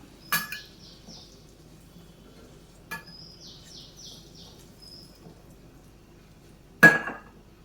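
Boiled eggs being scooped out of a cooking pan for egg curry: three sharp metallic clinks, spaced a few seconds apart, with birds chirping faintly in the background.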